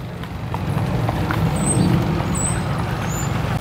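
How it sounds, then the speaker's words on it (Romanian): A horse-drawn carriage in a New York City park clops along steadily and close by, with traffic rumbling underneath and birds chirping faintly. "Și iată că există și mijloc de transport cu celebri cai."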